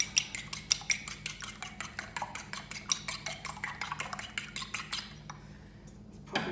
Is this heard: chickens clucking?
no